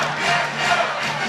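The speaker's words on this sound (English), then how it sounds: "Yay, the crowd goes wild" A baseball crowd cheers a walk-off home run for the Wildcats, a brief loud swell of massed shouting and roaring with no clear individual voices.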